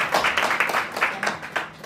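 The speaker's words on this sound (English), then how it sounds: "Let's just give a round of applause." Brief scattered clapping from a small audience at a media briefing launching a national security association, a short uneven burst of claps.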